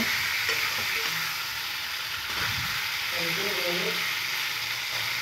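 Chicken sizzles and fries steadily in a pan with ginger, garlic, onion and chili paste, a constant crackling hiss with occasional stirring scrapes, fairly soft and close.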